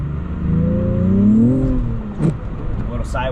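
An Acura TLX Type S accelerates uphill on a snowy road, its engine note rising in a smooth climbing whine that swells then eases, heard close from inside the car.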